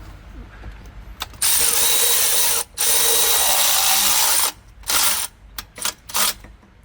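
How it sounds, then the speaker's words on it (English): Ratchet wrench tightening water pump bolts, a loud sustained burst of rapid clicking that pauses briefly, followed by several shorter clicking bursts close up with no talking. "So now I can go and torque all of the rest of the bolts to specs."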